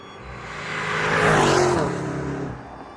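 Lamborghini Urus Performante SUV engine rising to a loud, roaring rev that peaks mid-way and eases off, harmonic engine tones climbing and falling, with no voices.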